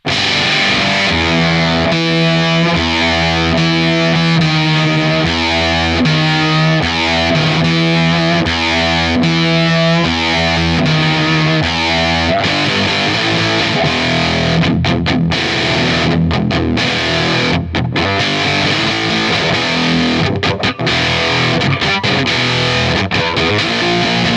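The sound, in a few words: electric guitar through fuzz pedal distortion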